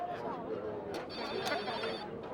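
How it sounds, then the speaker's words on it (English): A phone rings with repeated electronic chirps, faint beneath people talking nearby, at a 1991 ceremony for the Chicago Bulls NBA champions. "Oh, somebody's phone's ringing."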